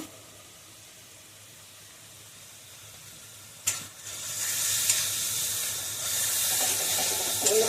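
Spices with turmeric and salt sizzle in a pan for a fish curry. A quiet hiss swells suddenly into a steady, loud frying sizzle about halfway through, heard close up with no voices.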